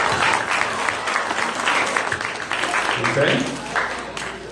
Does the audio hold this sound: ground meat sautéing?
no